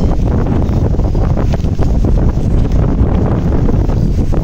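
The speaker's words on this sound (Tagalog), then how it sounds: "Ayan, at medyo lumalakas yung mga hangin." Strong wind from Typhoon Christine roars steadily and close, a dense low rumble buffeting the microphone with gusty surges throughout.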